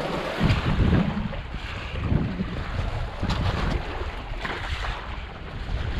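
Wind buffets the microphone while wing surfing on open water, a loud, continuous roar with gusty swells and splashing waves underneath.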